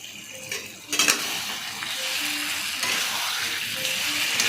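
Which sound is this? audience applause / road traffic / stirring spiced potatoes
stirring spiced potatoes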